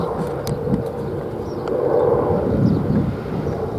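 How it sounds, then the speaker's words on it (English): A military helicopter passes overhead near Saddle Road in Hawaii: a faint, steady rotor and engine rumble that swells slightly midway, heard from a distance with light wind in the background. "Military copter."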